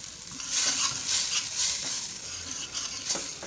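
Masala frying in a pan for Lahori beef karahi, a steady sizzle with brief stirring scrapes, fairly quiet and close, with no talk.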